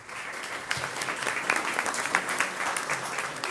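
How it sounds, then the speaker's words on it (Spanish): An audience at a university faculty lecture applauds a professor, dense, lively clapping with scattered louder claps that continues steadily from start to finish. "les solicito un fuerte aplauso para nuestro profesor de carrera"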